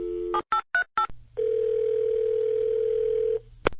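Telephone in the You Don't Know Jack video game: a few quick dialing beeps, then a steady dial tone held for about two seconds, ending in a sharp click.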